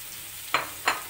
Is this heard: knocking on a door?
no